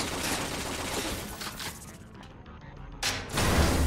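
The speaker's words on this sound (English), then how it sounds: "Please don't shoot me with bullets." Dense gunfire in the Tales from the Borderlands video game forms a continuous, loud barrage of shots that briefly thins before swelling again near the end.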